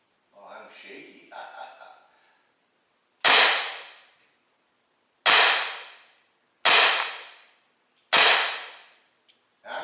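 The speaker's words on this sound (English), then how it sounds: "I'm firing pretty fast," Umarex SA10 CO2 .177 air pistol with a fake can fitted, fired at table distance in four sharp, close cracks about a second or two apart, each trailing off briefly, after a voice speaking at the start.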